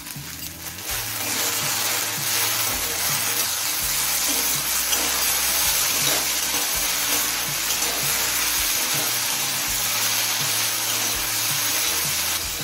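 Taro stolons with turmeric, Kashmiri chili powder and salt fry in oil in a pan, giving a loud, dense, continuous sizzle that holds steady throughout, with occasional low stirring bumps beneath the hiss.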